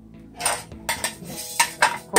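Metal lid set onto a cooking pan of cassava about to boil, several sharp close clanks and rattles in quick succession with no talking.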